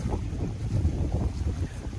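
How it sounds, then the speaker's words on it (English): Strong outdoor wind buffets the microphone with a continuous low rumbling roar and uneven gusty thumps, loud and close, outside a CMH Manufacturing Oak double-wide manufactured home. "the wind is crazy today, so you'll have to forgive us if you can't hear our rambling."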